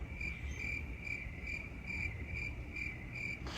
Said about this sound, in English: Is that literally a cricket chirping?